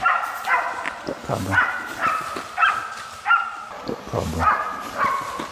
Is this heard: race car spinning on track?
no